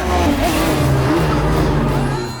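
A car races in at high speed with its tyres skidding during an action thriller scene, heard as a loud, sustained engine roar and tyre screech that holds steady for the whole stretch.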